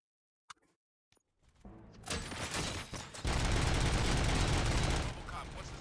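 Heavy gunfire erupts in the first-person shooter RoboCop Rogue City: a few isolated sharp shots, then a loud sustained barrage of rapid fire mixed with impacts and booms, dense and continuous to the end.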